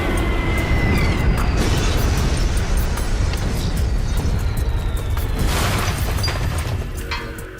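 German Stuka dive bombers drop bombs on the Westerplatte garrison in a war film, producing a continuous barrage of heavy, booming blasts and deep rumbling that stays loud throughout.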